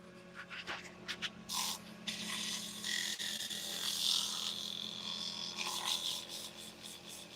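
Sanding pad rubbing over cherry wood on a lathe, quiet scratchy strokes starting in short bursts and then settling into a continuous soft rasp, close and alone.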